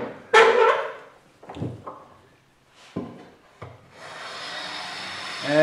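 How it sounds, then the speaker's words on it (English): A hand plane works the edge grain of Northern White Ash sapwood in a few separate strokes, each a short rasping shave, fairly close and moderately loud, followed by a steadier hiss toward the end. "And I'm planing the edge grain."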